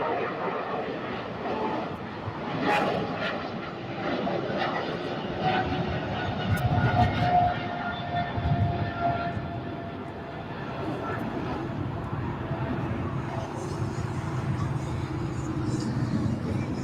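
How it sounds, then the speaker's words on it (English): A FedEx MD-11 airliner on final approach to runway 25 right at LAX, a steady distant roar of jet engines running through the whole stretch with broad rumble and outdoor background noise. "We've got the FedEx MD-11 in this final approach for 25 right"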